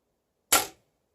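A single Diana Chaser air pistol shot fired through a moderator: one sharp, fairly loud crack with a short decaying tail, alone against silence.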